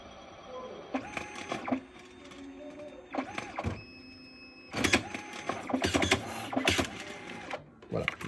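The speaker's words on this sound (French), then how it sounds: "la dernière photo blanche est imprimée" A photobooth photo printer feeds and prints blank photos in repeated mechanical whirring bursts separated by short pauses, close and fairly loud, with a voice faintly in the background.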